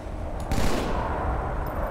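Gunfire in a Halo 2 Slayer match on the Zanzibar map, a dense, rumbling stretch of shots with a sharper burst near the start, continuous and fairly close throughout, with no voices.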